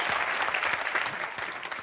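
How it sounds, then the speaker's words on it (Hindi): An audience at a comedy show claps loudly and steadily, a dense burst of applause throughout. "जोरदार तालियां श्रीवास्तव जी के लिए"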